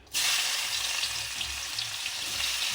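Chili and onion hitting hot oil on a gas stove, a sudden loud sizzle that starts abruptly and continues as a steady, close frying hiss with faint stirring underneath.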